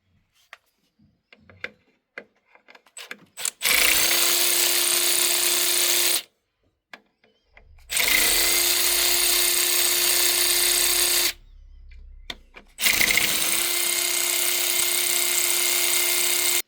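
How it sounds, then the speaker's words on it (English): Three bolts on a VW Lupo being backed out with a 5mm Allen hex bit: three long, loud, even whirring bursts separated by short pauses and faint handling clicks. "You're also going to need a 5mm Allen key to take off these 3 bolts."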